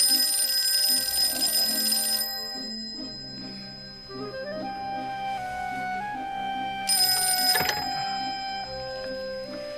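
A telephone rings in a Nero Wolfe mystery drama, two bright bursts of ringing separated by a pause, set against a sustained tonal background score.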